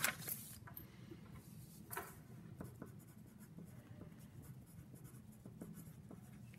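A pencil scratches faintly across paper as a name is written, in soft strokes and small taps against quiet room noise.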